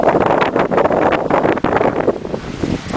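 Strong wind on Cannon Mountain buffeting the microphone in loud, continuous gusty roars with rustling, and nobody speaking.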